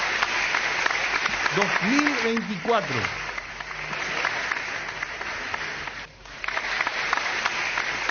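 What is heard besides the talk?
applause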